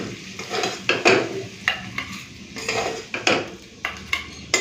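Cauliflower curry cooked with fish oil is spooned from a pan into a bowl, with a few distinct clinks and scrapes of a spoon on metal cookware spaced across the moment, close by and fairly quiet, with no talking.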